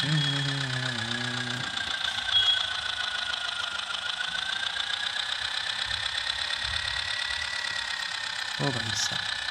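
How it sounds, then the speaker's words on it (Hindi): Engine of a fully blue Powertrac tractor in a farming simulator video game, a steady droning hum running throughout with short tonal bursts at the start and end, mostly under a voice. "तो हमने ले लिया यहाँ पर पावर टेक ट्रैक्टर को,"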